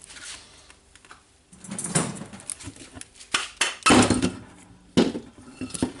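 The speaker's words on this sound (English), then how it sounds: "Now I think I will use the good old way to hammer it" Metal hammer blows strike the housing of a Milwaukee PLH 32 XE hammer drill during a teardown, landing as a handful of irregular, sharp knocks and clanks at close range in a quiet workshop.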